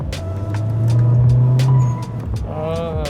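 Engine of a turbocharged Honda Civic FE fitted with an OMD blow-off valve, a loud swelling revving tone that holds then drops off, with a brief hiss and higher whine near the end; no talking.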